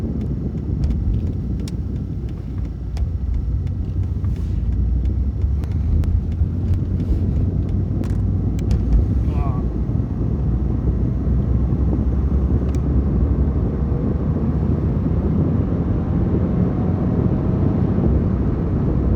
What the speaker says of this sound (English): This is a 6-cylinder with 161 horsepower.